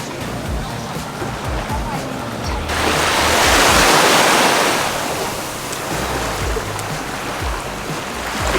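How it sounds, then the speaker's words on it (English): Ocean waves wash onto a beach on Koh Tao island in Thailand, a steady broadband surf roar that swells in the middle, with wind buffeting the microphone throughout and no speech. "I'm down here having a look at the beach. The ocean is always so much more clear and blue here at the islands."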